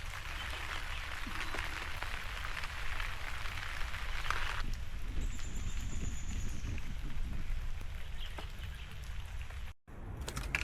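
Rain patters on an inflatable tent awning, a constant close hiss of drops that continues unbroken, with a brief dropout near the end.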